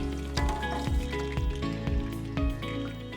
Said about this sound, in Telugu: నూనె వేడైన వెంటనే దీంట్లోనే మనం జీలకర్రతో పాటు యాలకులు పెద్ద యాలకులు ఇంకా పట్టా కూడా యాడ్ చేద్దాం